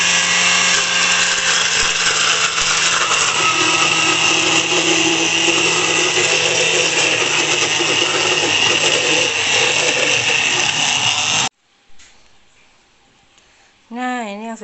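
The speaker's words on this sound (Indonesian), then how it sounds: "Kita blender lagi." A kitchen blender runs loud and steady, blending ingredients for cookies, then cuts off abruptly; a brief quieter whir follows before a short burst of talking at the end.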